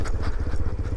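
A small Grom-clone motorcycle engine (2026) idles close by, its low, uneven putter pulsing in quick rhythm for about a second.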